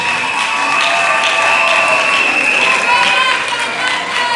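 A church wedding congregation breaks into sustained applause with some cheering, a steady loud wash of clapping throughout, with voices mixed in.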